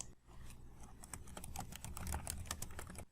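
A comment being typed on a computer keyboard, a quick close run of soft key clicks at an irregular pace, alone and fairly quiet.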